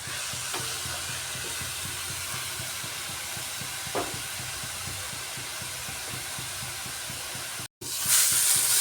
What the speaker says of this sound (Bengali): মশলা দিয়ে এখন একটু সময় কষাতে হবে এটাকে, যাতে মশলার কোনো কাঁচা গন্ধ না থাকে